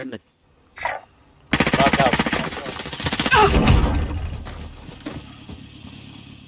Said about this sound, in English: Give me a shot, you're being shot at.